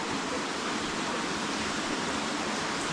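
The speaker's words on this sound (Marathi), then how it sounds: "हे बघा घराच्या बाजून असं पाणी वाहत आहे." Rainwater runs in a steady stream beside a house, a continuous rushing wash of flowing water that stays even and unbroken throughout.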